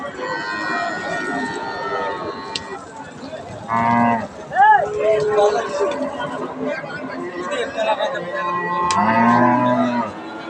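A Red Friesian dairy cow moos loudly a few times, with drawn-out calls among steady crowd chatter and farm commotion nearby at a cattle market.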